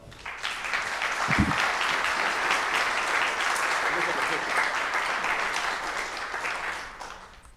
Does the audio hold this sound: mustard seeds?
no